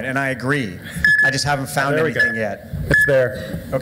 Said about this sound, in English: Each of those beeps is someone sending money with Bitcoin somewhere in the world.